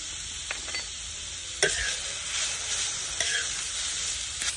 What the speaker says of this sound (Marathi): आपण कांद्यातच टमाटर टाकून घेऊ, म्हणजे कांदा आणि टमाटर बरोबर भाजला जाणार आहे।